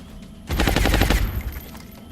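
Gunfire in the XCOM Long War strategy game: a dense, rapid burst of shots lasting under a second, loud and close, ringing out briefly afterward with no talk over it.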